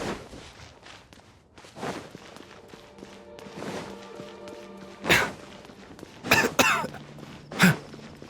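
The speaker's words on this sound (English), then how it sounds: "the coughing is interesting" A game character coughs in Genshin Impact, three sharp bursts standing out near the end over a low, busy background of game sounds and faint footsteps.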